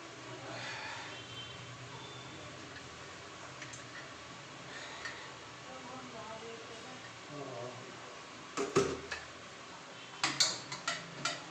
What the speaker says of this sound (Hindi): तो मैं पनीर को बारीक बारीक काट लूँ बस